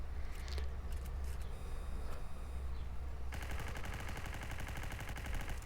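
Gunfire in the Block Strike zombie mode game: a dense, continuous barrage of rapid automatic shots, loud and close, shifting midway into a faster, tightly regular burst.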